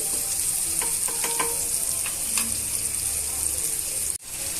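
Spices with turmeric fry in a pan under a bright, steady sizzle, with a few spoon scrapes and taps before the sound cuts off abruptly near the end.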